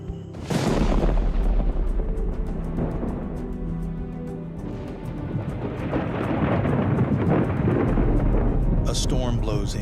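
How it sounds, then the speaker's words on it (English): Thunderstorm rolling over the Congo rainforest: a loud, sustained rumble of thunder with rain noise, swelling and fading across the stretch, with heavier low booms near the start and end. "A storm blows in,"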